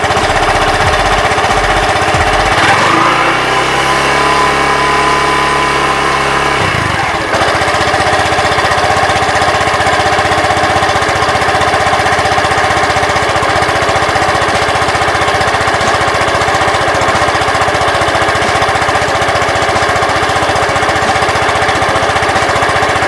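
A motorcycle engine runs steadily during a roadside battery check, a loud, close, continuous rumbling idle with a brief shift in tone near the start, then an even drone throughout with no speech.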